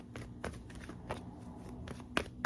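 Tarot cards being shuffled by hand in a series of crisp riffling swishes and soft slaps, close and fairly quiet, with a couple of sharper card snaps near the end.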